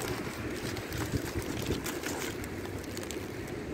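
Steady outdoor wind on a road trip between Wisconsin and Duluth, Minnesota buffets the microphone with a constant low rumble and rustle, moderately loud and unbroken throughout.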